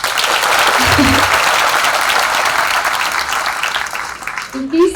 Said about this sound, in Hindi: फर्स्ट ऑफ ऑल आप लोग अपने लिए तालियां बजाइए